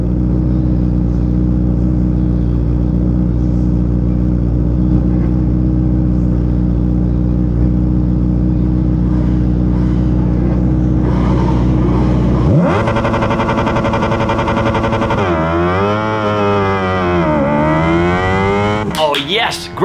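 Small formula race car engines at a race start, first idling in a steady loud drone, then surging together into rising and falling revs as the cars launch and shift, close and loud with no talk.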